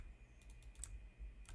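A computer mouse clicks the 'go to' button, giving a handful of faint, crisp clicks in quick succession against a quiet background with a thin electronic whine.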